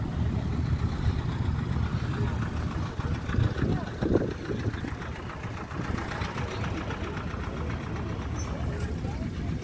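A vintage Güldner tractor with a 48 hp, 3.1-litre diesel engine runs steadily at idle with a low, continuous rumble, while people talk nearby at an outdoor vintage tractor meet.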